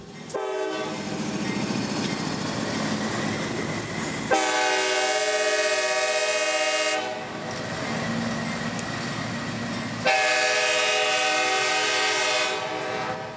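A freight train's locomotives cross State Road 60 in central Florida just after dawn, sounding two long, loud, harmonic horn blasts over a continuous rumble of engines and rolling cars.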